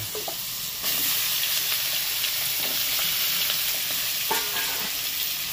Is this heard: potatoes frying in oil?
yes